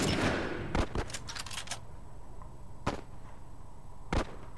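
Sharp gunshots ring out in The Last of Us Remastered: a dense cluster of quick cracks early on, then two more isolated shots, loud and close over a steady background.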